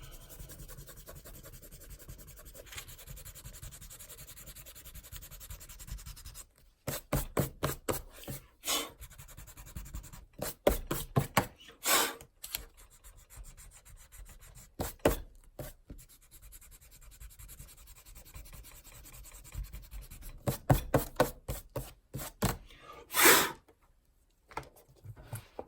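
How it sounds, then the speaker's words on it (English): A hand eraser rubs over an inked cat drawing on paper in repeated quick back-and-forth bursts, scratchy and close, with short pauses between strokes and no talking. "Let's see, erase this out."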